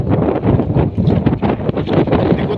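Strong wind from Typhoon Uwan at Bayside Gatid roars and buffets the microphone in continuous loud gusts, with no voices.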